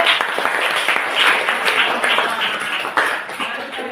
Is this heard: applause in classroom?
yes